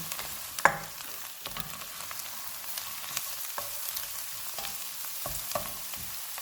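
Soft, steady sizzling of ginger garlic paste frying in a pan, with occasional light clinks and scrapes of stirring, no talking.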